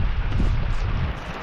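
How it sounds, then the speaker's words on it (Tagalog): Strong wind blows on a fishing trip during a sudden flood, a loud, rough rush of wind across the microphone, continuous and buffeting, with no talk over it. "Yan, lakas ng hangin."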